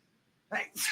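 A sudden human sneeze after near silence, two quick bursts in a row, the second harsher and more hissing, loud and close.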